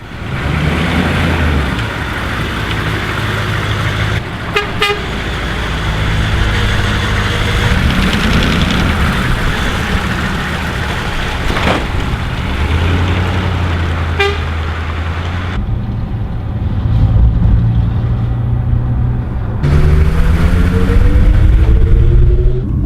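A Humvee M998 military truck rumbles along city streets, its engine drone steady and loud, while car horns toot several times and passing traffic swells and fades.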